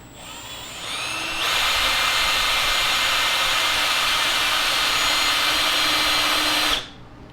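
A Milwaukee 2801-20 cordless drill at its lowest speed and torque setting drives forward into scrap wood, giving a steady, loud whine that holds for about five seconds before cutting off abruptly.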